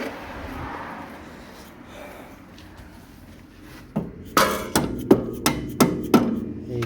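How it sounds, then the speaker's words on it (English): Hammer tapping a bolt loose from a fork on an Acura Integra DC4 suspension, six or seven sharp metallic strikes in a steady rhythm after a few seconds of quiet, close and ringing. "So let me get a hammer."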